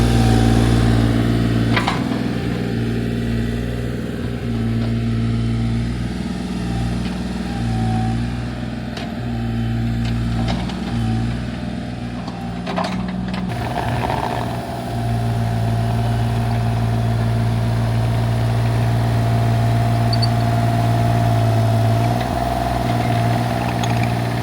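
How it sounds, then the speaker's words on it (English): An old truck's engine idles steadily close by, a low rumbling drone with a few brief surges and clanks partway through, running continuously throughout. "What do you think about this old truck, brother?"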